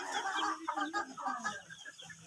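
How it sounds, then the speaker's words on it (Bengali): Four-month-old Fayoumi hens on a farm cluck and cackle at egg-laying time, several birds calling in close, uneven bursts that rise and fall, with no talking. "দেখেন মুরগিগুলা শব্দ করতেছে ডিম পাড়ার যে সময় আসলে যে শব্দ করে ওই শব্দটা করতেছে"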